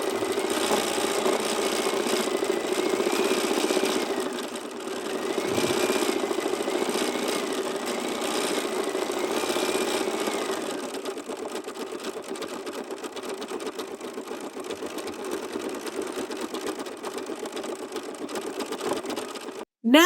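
An embroidery machine sews a placement stitch for the top of a wing design on a sampler hoop, giving a steady, fast mechanical whirring and needle chatter that runs continuously and fairly loud, easing slightly softer partway through.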